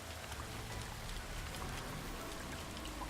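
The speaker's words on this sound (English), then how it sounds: "Get out of the acid rain" Steady rain pours down without a break in the No Man's Sky video game, where the downpour is acid rain. The hiss is dense and even, close and continuous, with faint scattered drop patter and no voices.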